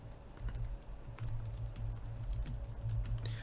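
Code is typed on a computer keyboard, with rapid, fairly close key clicks continuing throughout and no talking.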